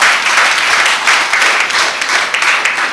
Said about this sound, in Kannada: ನೀವು ಚಪ್ಪಾಳೆ ತಟ್ಟಿದ್ದೀರಿ.